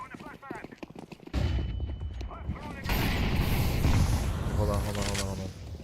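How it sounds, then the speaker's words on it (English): Flashbang and smoke grenades go off in a video game as loud, abrupt blasts that give way to sustained, rumbling gunfire-like noise. A voice is audible early on. "Throwing a flashbang."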